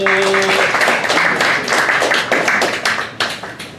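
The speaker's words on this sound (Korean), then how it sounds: "박수" A youth congregation at a Sunday church worship service breaks into clapping after a closing prayer, a dense, steady burst of many hands that fades slightly toward the end, with a brief held musical tone at the start.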